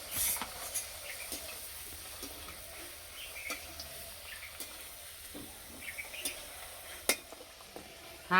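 Snacks made from wheat flour and besan fry in hot oil in a kadai, a low, faint bubbling sizzle with scattered small pops and clinks.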